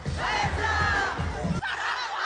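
A concert crowd shouts together loudly in a sustained, rowdy roar that cuts off abruptly, leaving faint background noise.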